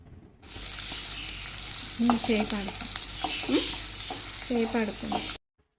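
Crushed garlic and chopped onion fry in a pan, a steady close sizzle with scraping clicks of a spatul stirring throughout, and no speech.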